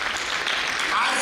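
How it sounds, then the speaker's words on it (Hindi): Audience applause at a public lecture, a dense steady patter of many hands clapping at once, fairly loud and sustained across the moment, with faint voices mixed in. "चलो उनके लिए ताली बजाओ"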